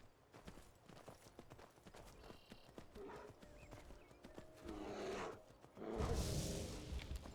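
Video game horse hooves clip-clop at a steady trotting rhythm, with a whinny and a swooshing rush near the end, all at moderate loudness.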